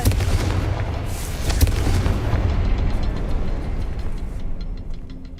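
Fiery spell blast in the Hogwarts Legacy video game: a sustained rumbling explosion with a sharp burst near the start, rolling and crackling as it slowly dies away.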